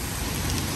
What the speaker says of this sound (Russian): Ну, в общем, скачут шарики ледяные.